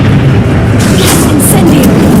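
A Confringo spell explosion in the video game Hogwarts Legacy, heard as loud, dense booming bursts over continuous game noise.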